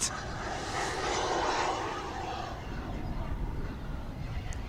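An RC model jet with a turbine engine in flight, a distant airy whoosh that swells, then fades as the engine spools down toward idle.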